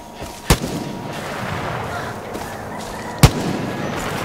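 Two loud, sharp gunshots ring out in Far Cry 5, spaced about three seconds apart over a low ambient background.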